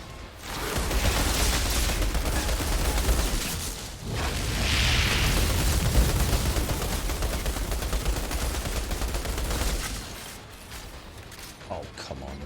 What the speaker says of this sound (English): I just lost a whole round of my LMG Inferno bullets.